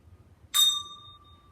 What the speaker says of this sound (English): I'm going to ring the bell when it's ready for you to open your eyes again.